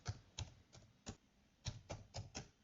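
A few quick key presses on a computer keyboard, sharp close clicks in a short irregular burst against near silence.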